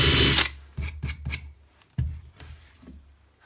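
A Lidl Parkside conical step drill bit boring into a wooden shelf, starting with a short loud whir that cuts off, followed by several brief bursts and scraping contacts at close range.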